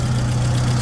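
Old red block car engine idling with the hood up, a steady loud low hum with a constant droning tone and an even ticking texture, heard close with no voices.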